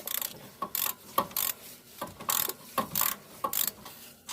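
Ratchet wrench with a 13mm socket clicking as it loosens a bolt on the front brakes of a 2007 Pontiac G6; about nine short, close bursts of ratcheting in an uneven rhythm, with no talk.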